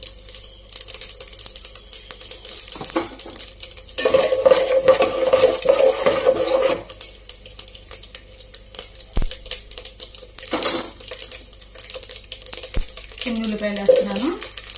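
Tempering seeds crackle and sizzle in hot oil in a home kitchen pan, the spatter coming in bursts of a few seconds each. Faint and close, it mixes with stirring clicks and some background hum.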